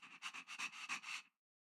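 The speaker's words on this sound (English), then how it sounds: "What a cute doggy!" A small dog in the video game Honkai: Star Rail gives a quick run of about eight breathy whimpering yips and pants over a second, close and fairly soft, then falls silent.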